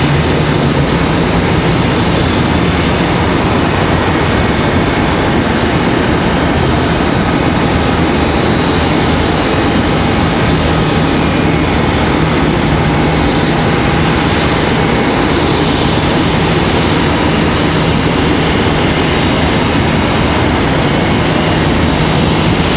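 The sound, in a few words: Delta airliner from Salt Lake City at Charlotte airport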